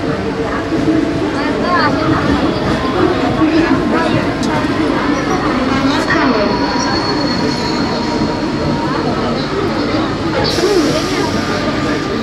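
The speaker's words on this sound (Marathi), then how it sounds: "आता कल्याणला ट्रेन थांबणार आहे." Crowded suburban train running toward Kalyan station near Dombivli, with wheels rumbling and squealing on the rails and metallic screeches over a steady loud roar, while people talk nearby.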